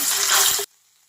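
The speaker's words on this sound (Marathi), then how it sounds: "यामध्ये घालतोय तेल तेलामध्ये जराशी बारीक चिरलेली कोथंबीर असलेला मसाला परतलेला" Spice masala with finely chopped coriander fries loudly in hot oil, a dense close sizzle that stops abruptly about halfway through, leaving near silence.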